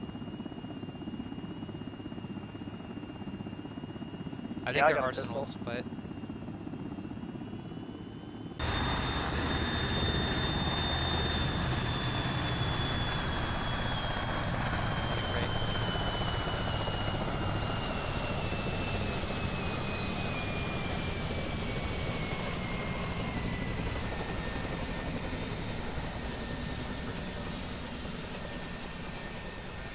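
Helicopter in the video game ARMA, a steady loud rotor and engine roar that starts abruptly and holds for the rest of the clip, with a brief voice just before it starts.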